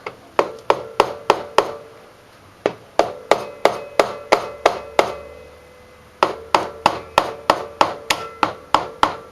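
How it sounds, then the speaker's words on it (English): Rubber mallet tapping a cylinder head down onto a Honda GL1100 motorcycle engine, a series of sharp, loud, evenly spaced knocks in two quick runs with a brief pause between, close and with no talking. "What do I do with my rubber mallet?"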